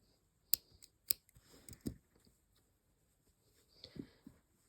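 Scissors snip crochet yarn, two sharp close cuts in quick succession, followed by faint handling rustles in an otherwise quiet room.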